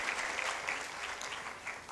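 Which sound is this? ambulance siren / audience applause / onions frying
audience applause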